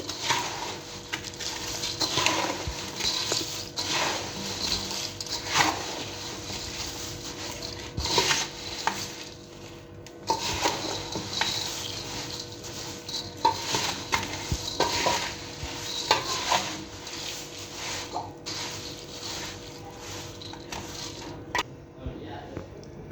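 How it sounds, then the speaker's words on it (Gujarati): Sev and puffed rice (mamra) are tossed together in a bowl for a sev mamra snack. Dry rustling and scraping strokes repeat steadily for over twenty seconds at close range, with occasional clinks of a spoon against the dish. "આ જે સેવ અને મમરા છે તેને એકદમ સારી રીતે મિક્સ કરી લઈએ"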